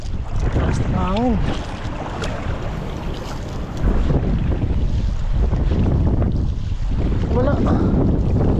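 Strong wind roars and buffets the microphone over open water, with waves washing around a fishing boat and brief voices speaking Tagalog breaking through.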